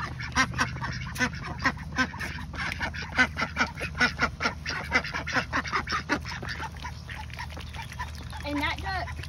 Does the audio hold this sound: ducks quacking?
yes